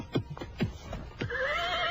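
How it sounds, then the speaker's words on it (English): A horse neighs once near the end, a shrill whinny following a few heavy hoofbeats and thuds as a rider pulls up and dismounts by a burial-mound hut. "I pulled up my horse and dismounted."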